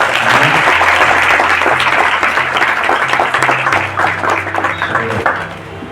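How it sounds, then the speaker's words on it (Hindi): Loud, dense applause from a church congregation at a Hindi praise and worship gathering, with many hands clapping steadily throughout and a faint tone beneath, easing slightly toward the end. "उससे भी बढ़कर हमारे पिता पुत्र पवित्र आत्मा के लिए हम जोर से ताली बजाएंगे।"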